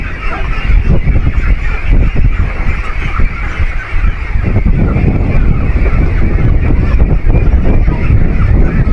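Pet ducks honking and quacking continuously in their pen, a loud dense chorus of calls close to the microphone with wind noise underneath and no pause.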